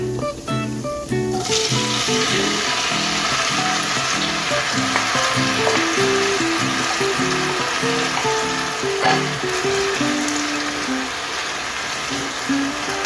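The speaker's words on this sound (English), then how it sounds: "So I'm gonna saute them before I put the chickpeas" Green seasoning sautés in a hot pan on the stove, giving a loud, steady sizzle close by over a background of music, with occasional stirring clinks.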